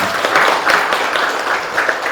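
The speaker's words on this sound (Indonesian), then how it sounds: "untuk tanda sepakatnya kita tepuk tangan dulu semuanya" A class of schoolchildren claps together to mark agreement on classroom rules. The clapping is short, dense and fairly loud, with a few slightly stronger claps standing out over about two seconds.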